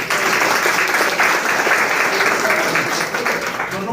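A crowd applauds at the grand opening of a TAILG electric bike showroom in Jashore, loud, dense clapping sustained throughout with voices mixed in.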